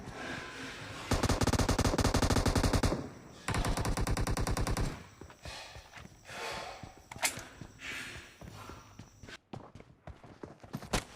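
Rapid automatic gunfire rattles in a video game arena domination match, with two loud sustained bursts up front, then scattered shots and footsteps at a lower level.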